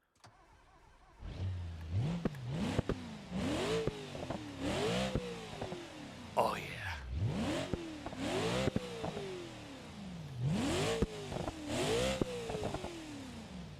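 A truck engine in the BeamNG driving game revs repeatedly, with about eight rising-and-falling throttle sweeps in steady succession, loud and close, with a brief voice partway through.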